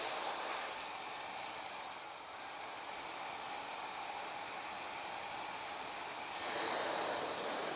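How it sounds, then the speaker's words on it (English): A blow dryer on its cool setting, used to style a short French crop haircut, blows with a steady, loud airy hiss throughout, dipping briefly then surging again near the end, with no talking. "I'm going to use a blow dryer. So this might be a little loud"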